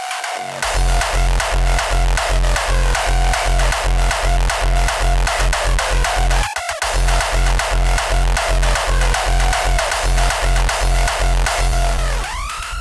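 A distorted raw hardstyle kick made with stock FL Studio plugins hits in a relentless fast four-on-the-floor drop, each punchy booming thump carrying a harsh tonal tail over a dense loud mix, with one brief stutter midway.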